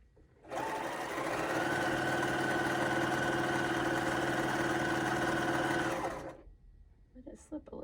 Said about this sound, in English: So we will just sew those 1/4 inch.